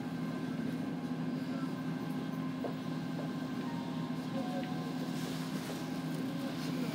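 Steady interior rumble aboard a Keihan limited express train running from Demachiyanagi toward Yodoyabashi, with constant low hum and faint rail noise throughout, no announcements or talk.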